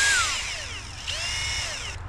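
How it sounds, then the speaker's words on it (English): Power drill whirring at very low speed and light load, a steady high whine with falling and rising pitch sweeps, close and loud, briefly slowing and restarting near the end. "So we're using a drill, and we need to have a very low speed at very low resistance"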